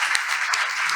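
Audience at a Hindi poetry gathering claps in a dense, even burst of applause, briefly and at moderate loudness.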